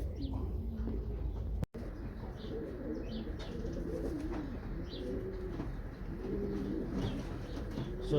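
Soft, repeated low cooing of a racing pigeon hen close by, with a brief sharp knock early on and light background noise.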